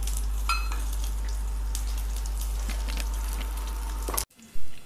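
Dried chillies and crushed garlic sizzle and crackle in hot oil for a banana flower and drumstick leaf kootu, a steady close frying hiss that cuts off abruptly near the end.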